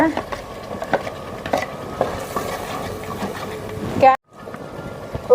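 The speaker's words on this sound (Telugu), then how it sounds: "అల్లం తెల్లగడ్డ పేస్ట్ ఆయిల్ పైకి తేలే వరకు ఫ్రై చేసుకోవాలన్నమాట" Ginger-garlic paste and chicken fry in oil in a clay pot over a wood-fired stove, a steady close sizzle broken by scraping stirs, before a sudden brief drop to near silence and a final clatter.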